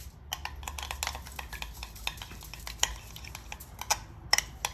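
A spoon stirs a marinade for whole grilled salmon in a bowl, with a quick run of close, irregular clinks and scrapes against the side, bunched and busy, with a few sharper taps near the end.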